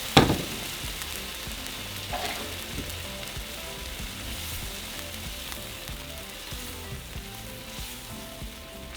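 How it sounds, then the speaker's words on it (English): Entomatada sauce frying in hot oil in a small frying pan, a steady close sizzle with a louder burst as the sauce hits the pan, then settling into an even crackle. "in a small frying pan, I'm going to add a little bit of oil. And once that heats up, we're going to add our sauce."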